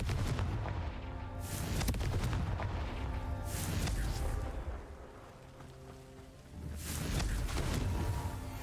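Confringo blasting spells fired in the Hogwarts Legacy video game: three loud, booming bursts roughly three seconds apart, each one a heavy explosive crack with a rumbling tail, over continuous game background sound.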